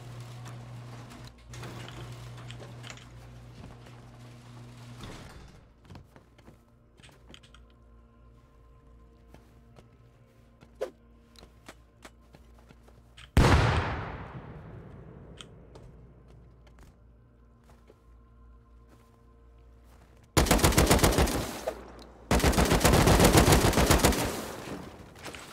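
Automated turret firing at raiders in the survival game Rust, a long sustained burst of rapid shots followed later by two more dense bursts, after a stretch of quiet mechanical clicks and hum, with no talking.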